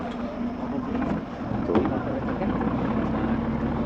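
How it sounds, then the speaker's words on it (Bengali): A passenger boat travels along a river in the Sundarbans during heavy rain, its engine giving a steady low drone under broadband wind and water rush. The noise is continuous and moderately loud throughout, with a brief thump midway. "আমাদের বোট কিন্তু দক্ষিণ সুরেন্দ্রগঞ্জ বারো নম্বর ঘাট থেকে রওনা দিয়ে দিল"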